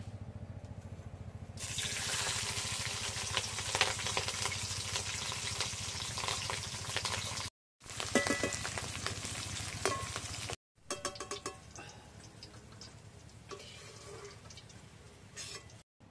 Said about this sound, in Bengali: এবার ভেজে নেব ক্যাপসিকাম